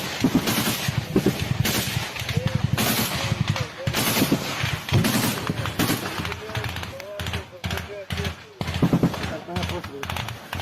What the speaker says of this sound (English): You now see them continuing to fire the machine gun.